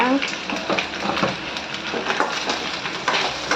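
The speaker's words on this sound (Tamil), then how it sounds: "இப்போ வந்து ஆயில் ஊற்றிக்கலாம் கொஞ்சம் அதிகமாகவே ஊற்றிக்கோங்க" Oil being poured into a hot pan for a fish curry gives a steady, loud sizzle and frying hiss, close up, with faint stirring clatter underneath.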